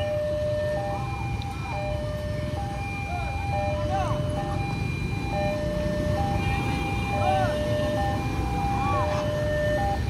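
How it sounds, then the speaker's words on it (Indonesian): Railway level crossing warning siren at the Kalijaya crossing in Cikarang, with the barrier gate about to close, wailing in steady repeated sweeping tones over loud traffic and outdoor background noise. "Sirene berbunyi."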